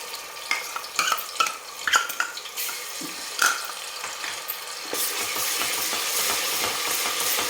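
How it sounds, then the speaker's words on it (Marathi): Ginger garlic paste hitting hot oil for mutton curry: a few sharp clinks and spoon taps first, then the sizzle swells into a steady, close crackle that fills the last few seconds, with no talk. "यानंतर आपण याच्यामध्ये टाकणार आहे आल्या लसणाची पेस्ट टाकणार आहे थोडीशी."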